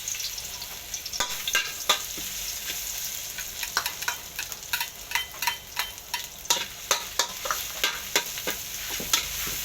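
Dried chillies and garlic stir-fry in a hot wok, a close crackling sizzle punctuated by rapid rhythmic scrapes and clacks of a spatula against the metal, no voices.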